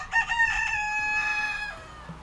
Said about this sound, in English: Phyllis the rooster